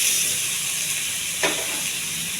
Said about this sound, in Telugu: సిమ్లో పెట్టి వేయించుకోవాలి.